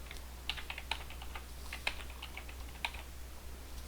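Keys tapped on a computer keyboard in a quick, uneven run of light clicks over a steady low hum, with a few sharper strikes standing out; no one speaks.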